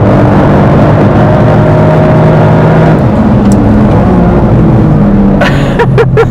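A car accelerates hard while being driven, its engine note climbing in a loud, close, continuous roar with shifting pitch, followed near the end by a brief whine of rising tones.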